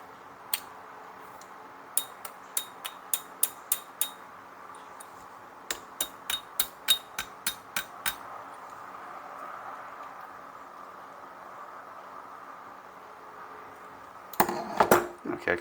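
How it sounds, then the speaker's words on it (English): A hammer drives a pin back into a float with light, close metallic taps. They come in two quick bursts of several evenly spaced strikes, and a louder clatter follows at the end. "once we hammer the pin back in, we'll see how cooperative she is."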